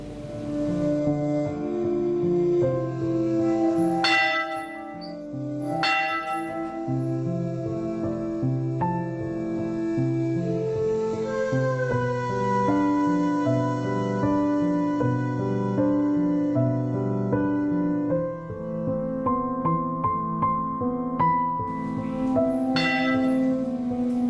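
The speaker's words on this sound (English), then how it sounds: "Church bells knelled at 8:45 a.m. today in memory of those who lost their lives in the explosions a week ago." Church bells tolling in memory of explosion victims, a dense, continuous peal of overlapping ringing tones with sustained resonant hum, steady and loud throughout with no voices.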